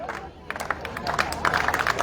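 An outdoor festival crowd applauds a marching band, with scattered claps building into steadier applause over a murmuring audience.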